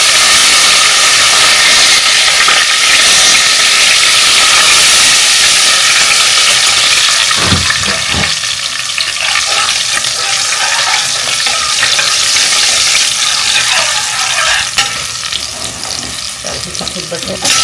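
Green chillies and curry leaves dropped into hot oil with asafoetida, frying loudly with a steady hiss and crackle that sounds close by, as a vegetable biryani masala is cooked. Brief stirring sounds break through midway.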